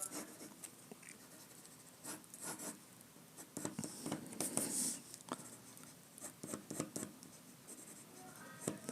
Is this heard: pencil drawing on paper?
yes